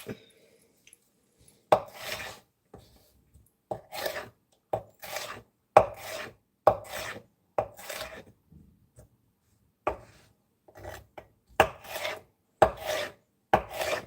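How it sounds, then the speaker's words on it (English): A knife dices peppers on a cutting board, heard as bursts of quick chopping taps separated by short pauses, close and fairly loud with no talking. "I'm just dicing the peppers right here."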